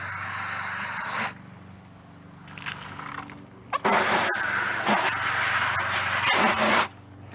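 A garden hose sprays water to rinse out a bucket screen outdoors, coming in broad hissing bursts of a second or more and a steady longer stream near the end, with quieter gaps between.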